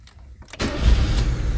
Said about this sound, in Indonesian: Oke, kita starter. Pak, tak coba starter ya.